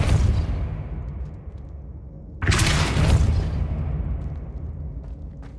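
Depulso force spell cast in Hogwarts Legacy, a sudden loud blast bursting out of a low rumbling background and then slowly fading over a couple of seconds, with no talking.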